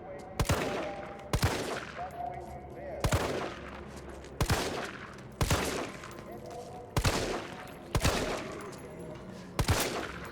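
Repeated gunshots from the video game Resident Evil 3, roughly eight sharp, loud blasts spaced about a second or so apart, with a low background hum between the shots.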